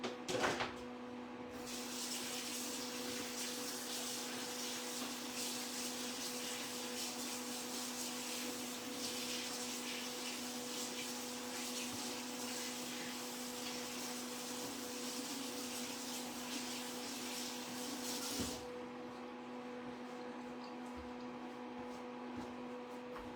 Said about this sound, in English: I'm going to rinse my hand.